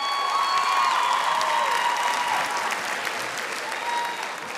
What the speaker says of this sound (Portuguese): Um aplauso também para eles